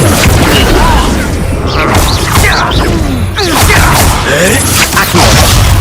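Incendio fire spell blast in the Hogwarts Legacy video game, loud booming whooshes and crashes from combat spells, with thuds and brief voice-like shouts mixed in.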